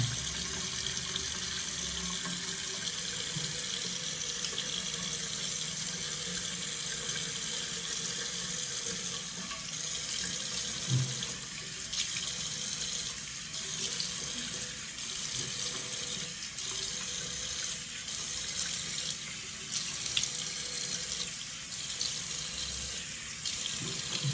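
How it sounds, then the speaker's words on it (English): A bathroom sink tap runs steadily while someone washes his face, a constant close rush of water with faint splashes and shifts as hands move through the stream, and no talking. "So, now we're gonna wash our face."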